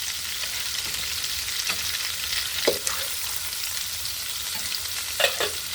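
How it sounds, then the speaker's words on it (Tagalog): Garlic and onion sauté in hot oil in a pan. A steady, loud sizzle runs throughout, broken by a few scraping stirs of a utensil, with no voices. "So pwede na natin igisa yung mga bawang natin sa sibuyas."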